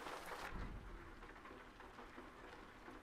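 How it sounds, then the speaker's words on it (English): Heavy rain in Euro Truck Simulator 2, a steady dense hiss of downpour drumming around the truck with a low rumble underneath, constant throughout. "Whoa, and it's pissing down rain."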